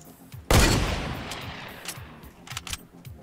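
A single loud, close gunshot from a video game, set on a hill, bursts out sharply and decays into a long echoing tail, followed by fainter distant pops.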